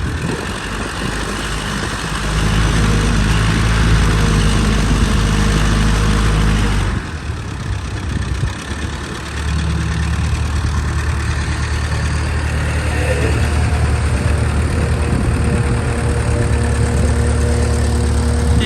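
A rear-wheel-steering wheel loader's engine idles steadily nearby, a loud continuous low rumble that briefly dips partway through before settling back into the same even drone.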